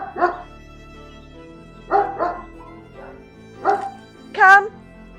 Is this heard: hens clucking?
no